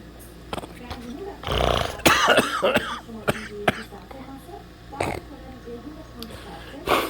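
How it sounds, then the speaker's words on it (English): Repeated harsh coughing bursts, close and loud, with a few strained throat-clearing sounds and gasps in between. "I'm coughing here."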